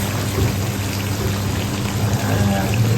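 Water is poured into a pot of miswa soup, making a continuous splashing, trickling pour close by under a low background hum.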